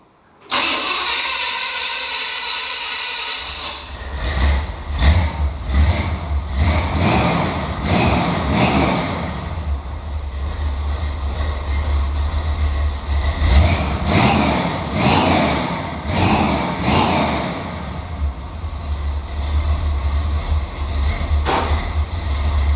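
A Chevy C10 pickup truck engine cranks over, catches and settles into a loud, rough idle, with several sharp revs rising and falling over about twenty seconds, with exhaust leaks after exhaust work.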